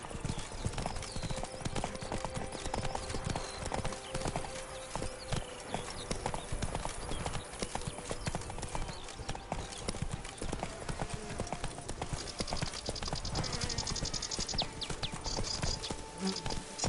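A horse trots in The Witcher 3 video game, making steady, rhythmic clip-clop hoofbeats over a background of buzzing insects and faint ambient noise.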